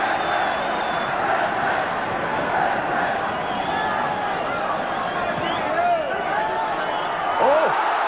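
Home supporters at Carrow Road keep up loud, continuous cheering and chanting for Norwich against West Brom in a 1978/79 league match, with a few whistles and rising shouts near the end.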